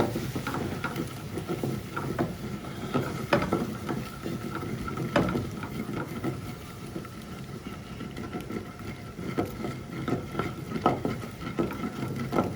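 Butter and chives are swirled into a soy ginger sauce in a pan over lowered heat, giving a soft continuous sizzle broken by faint scrapes and clicks of stirring, with no talk.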